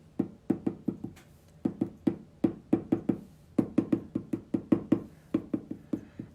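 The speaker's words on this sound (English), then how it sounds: "Who's knocking at the door?" A hand raps on a door in quick groups of sharp, close knocks, sometimes two or three hits at a time and sometimes longer runs, with brief pauses between the groups.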